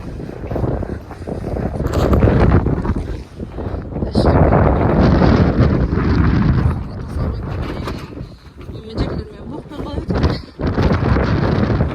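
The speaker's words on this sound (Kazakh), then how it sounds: "Жел болып кетті." Strong wind gusts over an open village setting, a loud, continuous rumbling roar that buffets the microphone with brief lulls, with faint talk underneath.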